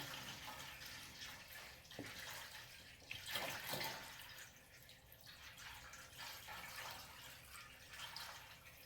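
A gallon of distilled water pours steadily into a container for making liquid soap, a soft continuous splashing and gurgling with a few brief surges, heard quietly and close.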